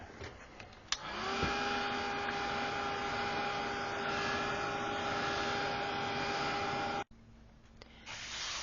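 A heat tool blows hot air over an art journal page, a steady whirring drone with a constant tonal hum that starts abruptly, runs for about six seconds, then cuts off, leaving quieter room sound.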